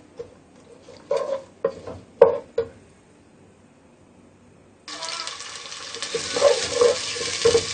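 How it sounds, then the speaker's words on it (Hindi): Onions go into hot oil in a pan: a few loud clanks and scrapes first, then a brief lull before a steady, close sizzle of frying that builds and holds to the end. "प्याज को हम हल्का ब्राउन करेंगे।"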